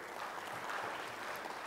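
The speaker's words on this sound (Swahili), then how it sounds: "Mkurugenzi wetu hapa tumpigie makofi." A conference audience at a closing meeting claps for a director, a soft, distant, even patter of many hands lasting under two seconds with no talk over it.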